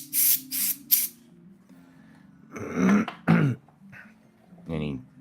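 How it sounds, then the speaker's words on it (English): Compressed air blown through a paint airbrush nozzle to clear dried paint flecks: three short, sharp hissing bursts in quick succession, followed by a pause and then a person speaking nearby. "I like to take a little bit of compressed air and just carefully blow it through the nozzle."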